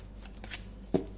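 Tarot cards being shuffled and drawn, soft papery riffles followed by one crisp snap as a card comes off the deck, close and quiet with no talk.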